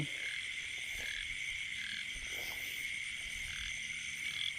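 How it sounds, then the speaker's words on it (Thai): Frogs croak in a grassy field, a dense steady chorus of high insect-like trilling with scattered lower croaks, continuous throughout with no voices. "เมื่อกี้เดินมาได้ยินเสียง กบร้องนะฮะ"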